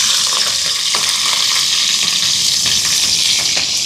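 Cinnamon and green chili fry in hot coconut oil for a Sri Lankan seeni sambal rotti, a loud, steady, close sizzle with faint crackles running throughout and no voices.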